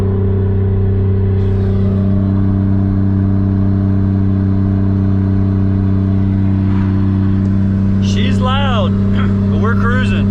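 Lexus IS300 with an inline-six engine and six-speed manual cruising, a loud steady engine drone that holds even throughout, with someone talking over it and brief rising revs near the end.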